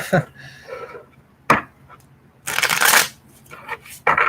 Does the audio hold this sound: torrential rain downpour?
no